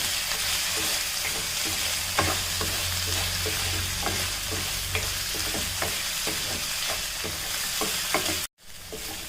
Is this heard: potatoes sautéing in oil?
yes